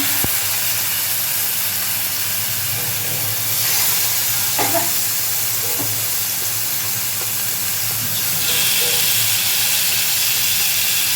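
Chicken pieces for butter chicken hit hot oil with a steady, loud broadband sizzle that swells as more pieces go in, spitting and crackling close by with no talking.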